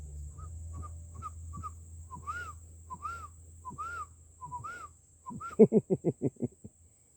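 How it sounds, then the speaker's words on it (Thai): A bird gives a series of rising whistled calls at a steady pace, then finishes with a burst of loud, harsh caws close by. "นกตัวนี้ไง อารมณ์หนามากนะสอ"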